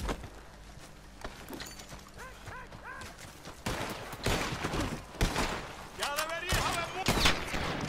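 Bursts of gunfire crack and echo through a Red Dead Redemption 2 shootout, several sharp volleys growing louder toward the end, with character voices in between.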